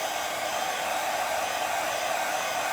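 A hair dryer blows continuously, loud and close, while it dries paint on a glass vase. The airy whirring rush holds steady throughout, with no talking.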